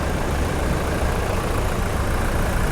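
A 2018 Toyota Hilux Revo Double Cab 2.8 turbo diesel engine idles under an open bonnet, a steady broadband rumble heard close up with no talk over it.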